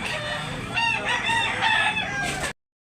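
A rooster at a Cebu gamefowl farm crows loudly and close by, one long drawn-out call with harmonic wavering, over steady background chatter and noise.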